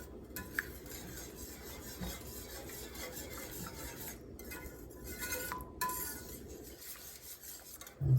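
A whisk scrapes and clinks around the sides of a pan of gravy, close and continuous, with rasping metal strokes and a few sharper taps.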